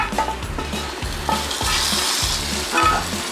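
Steady sizzling and crackling of vegetables frying in a hot pan, with rhythmic stirring scrapes throughout, loud and close.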